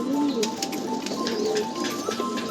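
Pigeons of an old black-necked breed coo softly in a loft, their low, rolling calls repeating over faint clicking and shuffling sounds.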